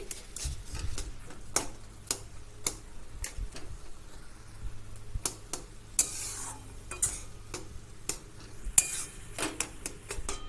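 Apple, dates and raisins are stirred together for a sweet-and-sour chutney. A spoon scrapes and clicks against the pan in irregular taps over a low, faint sizzle.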